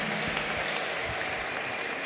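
Church congregation applauding, a steady wash of clapping from many hands that continues at moderate volume for the whole stretch.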